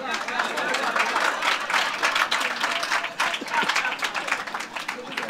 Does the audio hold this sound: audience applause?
yes